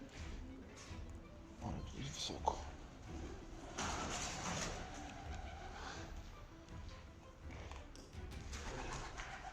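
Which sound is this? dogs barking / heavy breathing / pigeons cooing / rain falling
pigeons cooing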